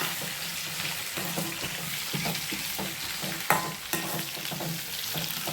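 Onions and tomatoes sauté in a pan for mint chutney: a steady close sizzle with repeated scraping stirs.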